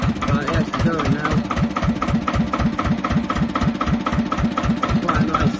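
A 1970s Johnsons dumper's engine running after warm-up, a loud close rhythmic chugging idle with steady regular knocking pulses throughout, and no speech over it.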